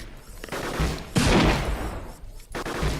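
Shotgun fire from robots in the Gladiabots video game, heavy bursts of blasts, loudest in the middle, with a quieter burst near the end.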